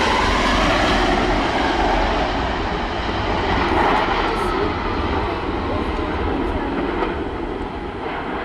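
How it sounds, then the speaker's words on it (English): An airplane in Russia aborts its takeoff and runs off the end of the runway. A heavy, continuous engine roar and rumble holds steady throughout. "This plane in Russia was taking off, but ran off the end of the runway after it aborted the takeoff attempt."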